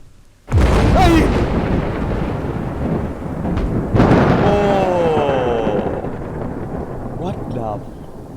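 Loud thunder crash in a horror video game, a sudden broadband boom with a long rumbling tail, followed by a second strike, with game ambience and sounds underneath.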